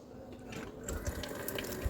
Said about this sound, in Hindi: पानी खोलो ताकि गर्म पानी निकल जाए